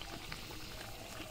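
Peas kachori fry in hot oil with a dense, steady bubbling sizzle, close and even with no pauses.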